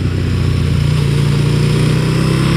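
Motorcycle engine drones steadily and close while the bike leans through a corner, a loud sustained mid-pitched note with no voices.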